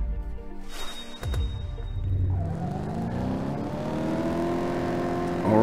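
A Mercedes SLK's engine in a racing video game climbs through a long, steady rev after a brief thump, rising in pitch with a faint tire squeal, loud and sustained until a final surge.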